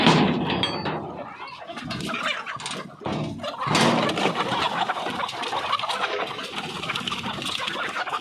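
Hens clucking on a poultry farm in Pakistan, a busy, close mix of overlapping clucks and squawks that continues throughout, with a brief louder burst near the middle.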